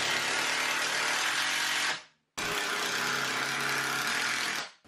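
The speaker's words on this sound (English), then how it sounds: "I'm going to drive in 2 screws every time that I find a stud to make sure this shelf is very secure." A power drill drives 3½ inch screws into wall studs to hold a workshop storage shelf, running loudly in two long bursts with a brief stop between them.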